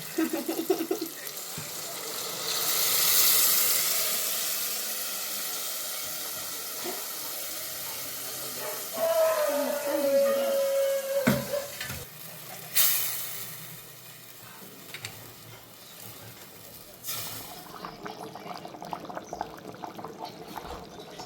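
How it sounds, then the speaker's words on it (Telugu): Fish curry stock poured into a pan of hot tempering, a steady liquid pour and faint hiss rising near the mic for a few seconds amid kitchen clatter. "ముందుగా కలిపి చేసుకున్న చేప పులుసుని తిరగమతలో పోస్తాను"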